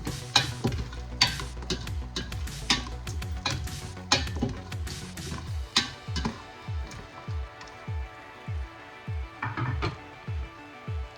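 Spices for lemon rice temper in a pan over medium heat, with bursts of sizzling and frying plus repeated stirring scrapes and clinks that settle into a regular rhythm, close up with no talking.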